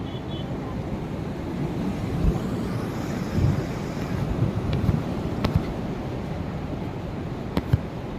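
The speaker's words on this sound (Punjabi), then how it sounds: "ਦੇਖੋ ਕਿੰਨੇ ਸਪੀਡ ਨਾਲ ਪਾਣੀ ਨਿਕਲ ਰਿਹਾ" Fast water pouring out through the gates of the Ropar headworks, a steady broadband rushing roar close by, mixed with wind buffeting the microphone and brief clicks.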